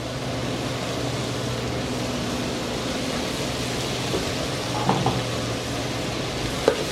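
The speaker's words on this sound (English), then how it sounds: "I'm going to add 2 cloves of minced garlic and 2 teaspoons of dried thyme." Minced garlic and dried thyme sizzle in a pan with wilting vegetables, a steady, soft frying hiss throughout with a couple of faint stirring clinks near the end.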